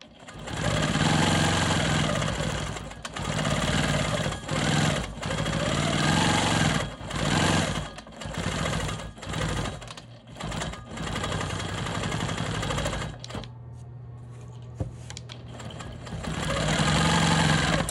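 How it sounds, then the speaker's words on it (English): A sewing machine stitches smoky swirl quilting on a star quilt block, a loud, fast mechanical whir running nearly continuously with short stops and restarts, plus one longer pause near the end before it resumes. "now I'm gonna go ahead and quilt my smoky swirls up here."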